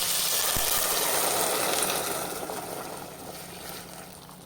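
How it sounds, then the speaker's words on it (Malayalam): Water is poured into a pan of frying chicken for macaroni, and a loud hissing rush slowly fades and softens as the liquid settles, with no talking. "ഇനി അതിലോട്ട് വെള്ളം ഒഴിക്കാം."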